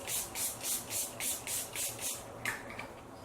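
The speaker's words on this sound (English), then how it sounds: "So yeah, I'm going to go ahead and just spray this to set everything down." Short bursts from a Milani Make It Last setting spray mist bottle, about eight quick sprays in a steady rhythm, close and fairly soft, then a faint rustle with no talking.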